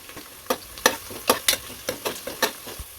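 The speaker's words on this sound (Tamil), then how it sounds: "இப்போ இது கூடவே கொஞ்சம் கல்பாசி கொஞ்சமாக பட்டை கொஞ்சம் ஜாதி பத்திரி கொஞ்சம் அன்னாச்சிப்பூ சேர்த்து இதையும் நல்லா வதக்கி விட்டுருவோம்" Spices (stone flower, cinnamon, mace and star anise) sautéed in a pan for beef gravy, with a regular series of crisp scraping stir strokes over a soft, steady sizzle and no talking.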